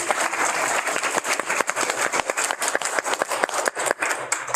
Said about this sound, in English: let's give Steve a round of applause